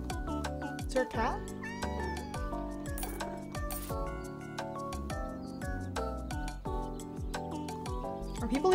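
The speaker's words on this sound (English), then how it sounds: "Is there a cat?" A cat meowing in a cute video game, a few short meows over bright, busy game music with tinkling clinks, with nobody talking.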